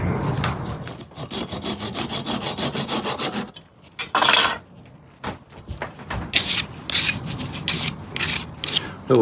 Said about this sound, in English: Little sanding block I just made that off of watching a video on YouTube. It's a pretty handy little piece of maple.